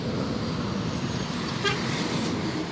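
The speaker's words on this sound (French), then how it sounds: "Klaxon." A brief truck horn toot sounds partway through, rising above steady road traffic noise with engines rumbling nearby.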